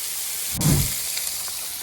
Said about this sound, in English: Now we're gonna let that cook for like a minute or two, and then we're gonna flip it again so it cooks evenly on each side.